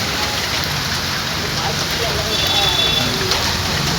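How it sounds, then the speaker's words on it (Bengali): Heavy rain falling outdoors, a loud unbroken wash of drops hitting surfaces, close and steady for the whole stretch with no pauses. "খুব জোর বৃষ্টি হচ্ছে"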